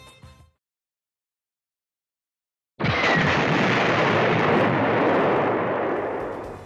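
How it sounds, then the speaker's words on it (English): The Death Egg explodes in a Sonic fighting video game, a sudden loud blast after near silence that roars on as a dense, sustained rumble and slowly fades. "you still get the same ending where you flee the Death Egg before it explodes"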